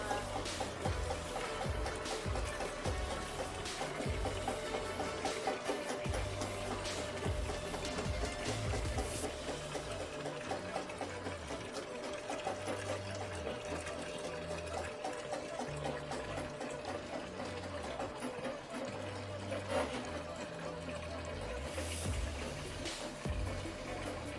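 A drain cleaning machine runs steadily while unclogging a commercial floor drain, a continuous mechanical whir mixed with watery gurgling and splashing, close and sustained for the whole stretch.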